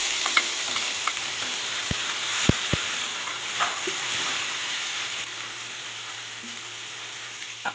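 Garlic and tomato stir-frying in a pan, a continuous close sizzle with scattered sharp ticks and taps of a utensil against the pan, no voices over it.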